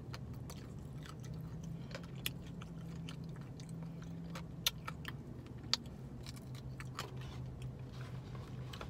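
An animal chewing up chicken bones from KFC, a steady run of close, wet crunches and cracks over a low hum of background noise, with no talk.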